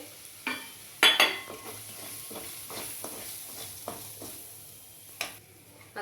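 Garlic and coriander paste with spices sautéing in a pan for egg curry, a soft steady sizzle with occasional scrapes and stirring knocks of the spoon, close and fairly quiet.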